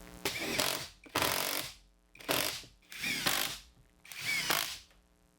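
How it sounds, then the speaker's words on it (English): A power drill drives screws to fix a plastic roof panel to a workshop ceiling, giving five loud whirring bursts of about half a second each, separated by short gaps. "I'm going to use some of those same screws as before to get this attached up here"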